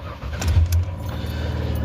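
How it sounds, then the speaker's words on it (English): A car engine turns over and settles into a low, steady idle while warming up, close and fairly loud, with a brief rough surge near the start. "Let me warm my car up."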